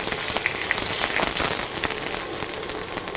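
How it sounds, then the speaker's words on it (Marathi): Green chillies and curry leaves sautéing in a pan give off a steady, loud crackling sizzle with dense spitting pops throughout, no voices. "त्यानंतर हिरवी मिरचीचे तुकडे, साधारण 2 ते 3 हिरव्या मिरच्या, कढीपत्ता एकदा आपण परतून घेऊया"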